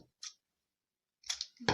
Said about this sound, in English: Use another scissors and cut it.